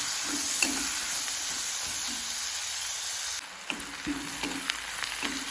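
Three medium chopped onions sauté in a pan for a cauliflower masala curry: a continuous hissing sizzle with spatula stirring strokes, dipping briefly in loudness partway through before picking back up; no voices.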